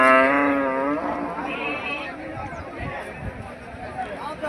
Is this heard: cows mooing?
yes